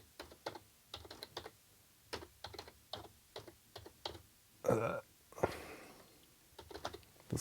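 Someone types on an awkward keyboard while setting up a PiStorm accelerator for an Amiga 500, giving close, quiet, irregular bursts of key clicks with short pauses between runs.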